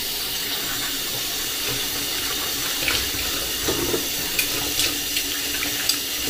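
Cold water runs steadily from a kitchen tap during dishwashing, a constant broadband hiss with a few faint clinks of dishes near the end.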